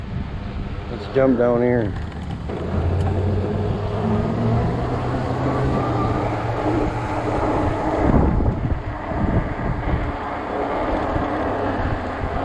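Strong gusting wind buffets the microphone while riding a 20-inch 48V Ecotric fat-tire e-bike in 20 mph gusts on a warm day, a steady roaring rumble throughout, with a person talking briefly near the start.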